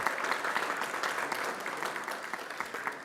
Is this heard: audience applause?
yes